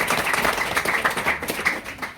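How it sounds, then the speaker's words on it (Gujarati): A church congregation clapping their hands in praise during a sermon, producing dense, steady crowd applause that fills the whole moment. "તાળી પાડીને દેવનો ધન્યવાદ."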